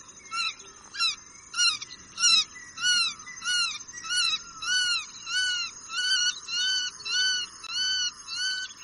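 A group of guira cuckoos gives repeated harsh, rising calls in a steady series of about a dozen bursts, fairly close, with no other sound.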